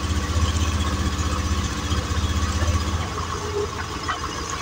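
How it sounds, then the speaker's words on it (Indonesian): A cold Honda Beat scooter engine idles close by with a steady, rapid low putter and a slight uneven pulse, continuous and alone with no talk. "Mesinnya masih dingin ya."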